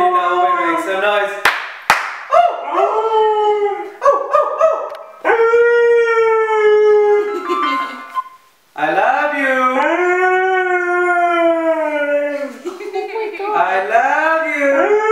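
A Husky howls and sings along to music, with long wavering, rising and falling howls and yips that are loud and close. Brief claps and short pauses break up the howling.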